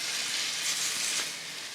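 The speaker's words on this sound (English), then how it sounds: "So I'm just basically stir frying this until it is done." Chicken stir frying in a hot pan with Italian seasoning, a steady close sizzle and crackle that fills the moment without a break.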